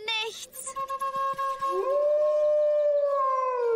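A long, loud wolf howl from a cartoon rises and holds a sustained tone after a short burst of rapid, choppy noises, ringing on alone at the end.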